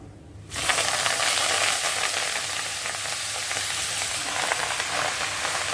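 Mallow leaves (sonchal saag) hit a hot pan and burst into a loud, steady sizzle that continues evenly close by, with no talking.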